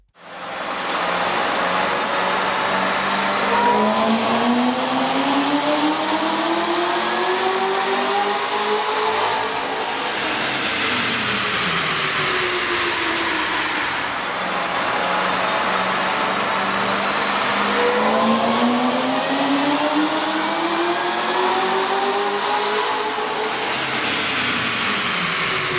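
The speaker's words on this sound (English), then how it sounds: "we ran the vehicle on the dyno to test the sound comparison versus the stock intake" A car fitted with a K&N 63-3080 air intake revs on a dyno, its engine rising and falling through repeated long sweeping pulls, loud and steady with a strong intake roar and no voices.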